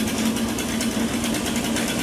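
A chainsaw engine runs steadily just after starting, its buzzing exhaust note close and loud, with no talk over it.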